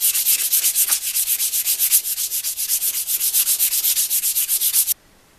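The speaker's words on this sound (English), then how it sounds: "I can now sand everything very, very smooth" Sandpaper rubs back and forth along a wooden spear shaft, a steady loud rhythmic scratching of about two strokes per second that stops abruptly near the end.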